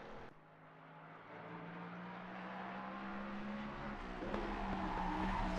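A Mustang race car in a sim racing game rides hard over curbs, its engine a steady sustained drone that climbs slowly in pitch, with a sharp knock near the end.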